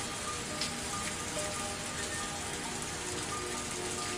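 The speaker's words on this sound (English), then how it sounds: "the cold air and the sound of rain didn't change a bit" Rain in the Higurashi visual novel falls as a steady, soft, even hiss of drops on a surface, faint and unbroken throughout without any voices.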